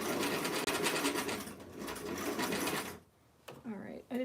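A sewing machine stitches fabric for a Barbie doll dress in a steady, close whir that runs for about three seconds, then stops as a person speaks briefly.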